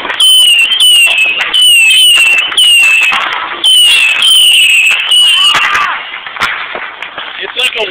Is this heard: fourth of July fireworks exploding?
yes